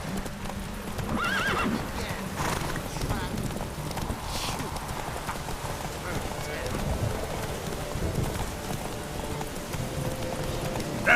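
Horses gallop in a race in The Witcher 3, with dense rapid hoofbeats and whinnies, close and loud, while people shout over them.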